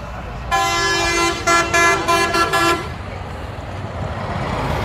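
A government bus's loud, deep, train-like horn blares nearby at a Haridwar bus stand in one long blast, then several quick toots over a background of traffic rumble.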